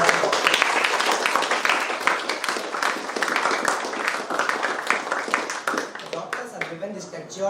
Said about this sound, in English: Let's give a huge round of applause for our doctors.